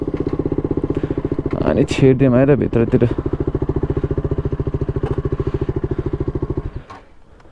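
Motorcycle engine idling close by with a steady, rapid thumping pulse that stops near the end, while someone talks over it briefly.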